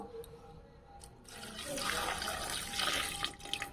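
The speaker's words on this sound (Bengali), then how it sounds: "এখানে এবার আমি জল দেবো," Water is poured into a pressure cooker holding potatoes and figs, a soft steady splashing pour that builds after a quiet start and runs to the end of the clip.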